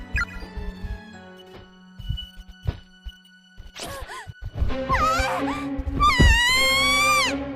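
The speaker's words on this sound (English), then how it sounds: "I've never heard screaming like this before. It's pure primal terror cutting through the air like a perfect sine wave." Terrified screaming in the horror game Corpse Party, rising from sparse thuds and knocks into loud, wailing, high-pitched screams in the final seconds.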